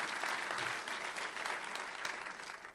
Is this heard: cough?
no